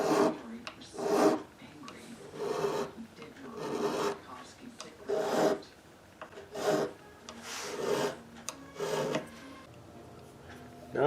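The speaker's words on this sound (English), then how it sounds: "finally polish the frets, first with steel wool" Steel wool rubs back and forth over guitar frets on a Gibson J50 acoustic's rosewood fretboard, producing close, rhythmic raspy scrubbing strokes in bursts separated by short pauses.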